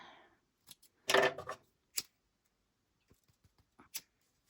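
Scissors snip thread ends on a waterproof canvas wallet: a few quick, close cuts with one fuller crunching snip in the middle, then light scattered clicks and taps in a quiet room.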